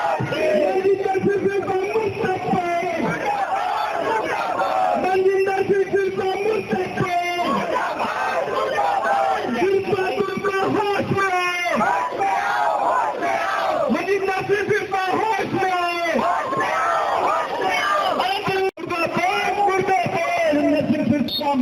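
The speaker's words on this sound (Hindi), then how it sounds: "कार्यकर्ताओं ने केंद्र और राज्य सरकार की नीतियों के खिलाफ नारेबाजी भी की" Political party workers chant slogans in unison at a street demonstration against central and state government policies, a loud, dense crowd of voices rising and falling in repeated rhythmic bursts throughout.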